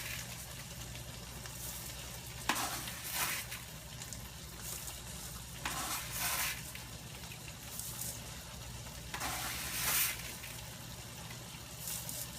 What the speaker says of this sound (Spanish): Entonces ahora le voy a poner el arroz.